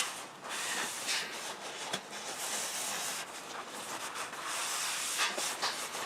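Brake cleaner aerosol blasting onto car parts under a vehicle, a steady loud hiss of spray lasting several seconds with brief dips between bursts, close to the can.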